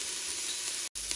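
Onions sizzle and fry steadily in hot oil inside an Instant Pot on its sauté setting, a dense continuous crackle broken by a brief silent gap near the end.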